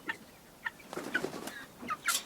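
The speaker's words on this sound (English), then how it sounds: "So what are you doing with that chicken?" A chicken in a farm pen with other hens gives several short, close clucks spread across a brief, quiet moment, with no talking.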